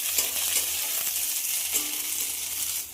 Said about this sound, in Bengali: ক্যাপসিকামটা পেঁয়াজের সঙ্গে একটু ভালো করে ভেজে নিতে হবে।